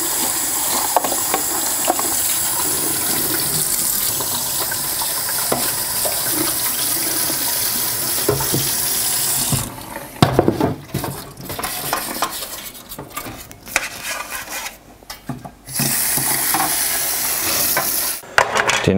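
Brush scrubbing the drip tray of a DeLonghi cappuccino machine with water, a steady wet scrubbing that runs for about ten seconds, then breaks into uneven bursts, pauses and a final stretch of scrubbing close to the microphone.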